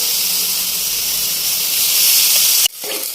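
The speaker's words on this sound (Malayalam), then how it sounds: "ഇനി ഇതിലേക്ക് നമുക്ക് ബീഫ് ചേർക്കാം വേവിച്ച് വെച്ചിരിക്കുന്ന ബീഫ്" Cooked beef for a Kerala-style roast drops into a hot pan with ghee and sets off a loud, steady sizzle that roars for a few seconds and then cuts out abruptly.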